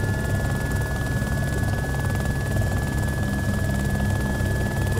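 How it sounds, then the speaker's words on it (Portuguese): Helicopter in the video game DayZ with rotors spinning up, a steady, loud droning hum with a constant high whine, continuous and unchanging throughout. "O helicóptero, ele vai alcançar uma rotação, as hélices."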